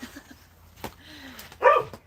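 A pet dog named Katie barks at the door indoors, giving a couple of short, close yips and one louder bark near the end over a quiet room.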